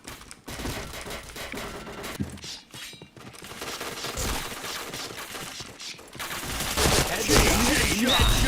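Rapid bursts of automatic gunfire from the online shooter game Point Blank crackle loudly and almost continuously, with sharp single shots mixed in and a voice speaking briefly over the action.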